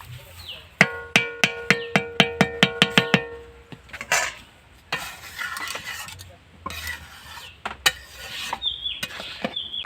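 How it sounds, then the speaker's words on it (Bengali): Boiled vegetables are mashed with a fork in a metal pot: a quick run of about ten sharp, ringing clinks, then scraping and irregular knocks, close and fairly loud. "এই সবজিগুলো না সেদ্ধ হয়ে গেছে, এগুলোকে আমি একটু কাঁটা দিয়ে ঘেঁটে দিচ্ছি"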